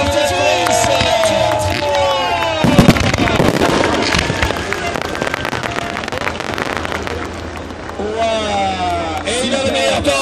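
Fireworks crackle and pop at the finish of a French rallycross championship race at Dreux, a dense burst of bangs over a crowd, while a commentator talks excitedly throughout.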